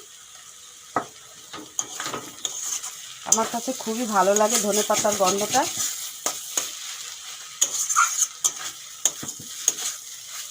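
Diced papaya with peas, tomato and chopped coriander sizzles in a pan, broken by scraping stirs and spatula clicks. Someone talks briefly in the middle.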